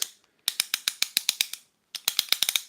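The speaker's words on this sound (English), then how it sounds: "We could get into the sound of ratchets and clanks and clickety clocks." A Transformers toy's shoulder joint ratchets through two quick bursts of crisp, evenly spaced clicks, close and clear with a brief pause between them.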